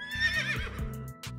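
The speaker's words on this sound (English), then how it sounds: "Nay! This zombie horse isn't the fastest, but he can scare away all the neighbors." A loud, close horse whinny rises and trembles before breaking off, used as a sound effect for a zombie horse doll, with no talking over it.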